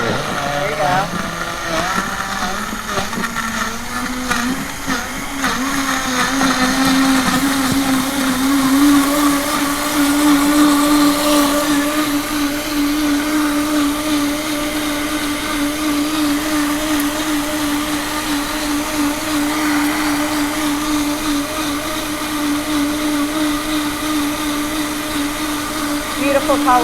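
A 64-ounce blender blends berries, a loud sustained motor whine with churning, grinding texture that holds steady for nearly half a minute, and a voice speaks briefly over the noise.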